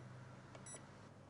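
A bread machine gives a short, faint electronic beep as its timer is set, a single high tone heard alone over quiet room hum.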